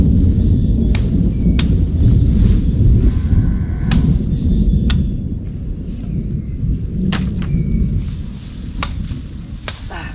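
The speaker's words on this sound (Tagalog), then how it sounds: "Kidlat na naman to." Deep, rolling thunder rumbles steadily through rain, with sharp crackling bursts scattered over the low roar. The storm sounds close and fairly loud, with no talk.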